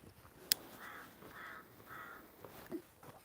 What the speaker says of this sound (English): I'm not feeding the crows though, I don't like the crows.